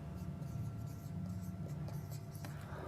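Marker scratching out numbers on a whiteboard during a class 5 math lesson, a steady close squeaky rubbing with short strokes throughout, no talking.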